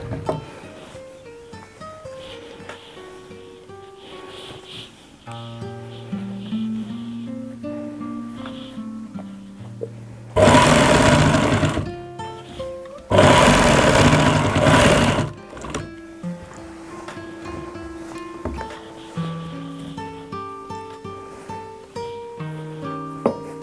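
A sewing machine stitches pleats into a Patiala salwar in two loud, fast whirring bursts of a few seconds each, with quieter handling sounds and background music before and after.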